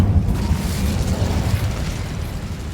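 Incendio fire spell cast in the video game Hogwarts Legacy: a steady, loud, rumbling fiery burst with a deep low roar that holds for almost three seconds, with no talking.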